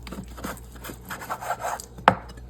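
A knife cuts through seasoned ribs with soft scraping and rubbing strokes, ending in one sharp, close knock on the cutting board.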